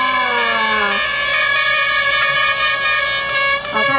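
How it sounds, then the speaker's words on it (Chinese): An audience member at a concert blows a horn, a sustained, loud brassy blare that dips in pitch early and then holds, with no one talking. "喇叭声再来一次"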